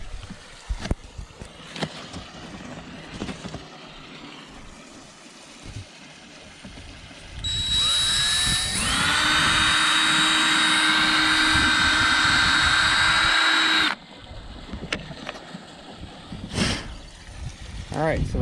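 A power drill whines loudly for about six seconds while boring a small pilot hole in a boat for mounting a bimini top, with quieter handling clatter and brief talk before and after.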